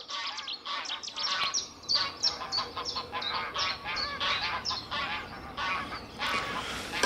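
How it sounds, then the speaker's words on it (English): A noisy flock of geese honks continuously nearby on water, overlapping calls rising and falling without pause. "Some very noisy geese"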